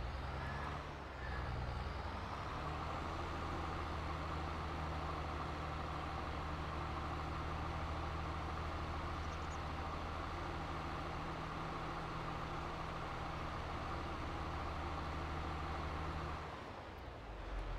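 Tractor engine in Farming Simulator, a steady low diesel drone idling close by with a rising rev near the start, then cutting off at the end; no talk.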